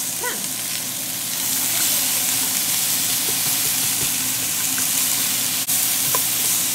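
Asparagus, mushroom, shrimp and onion sizzle loudly in a frying pan, a dense, steady crackle close by that fills the whole stretch with occasional small pops and no talking.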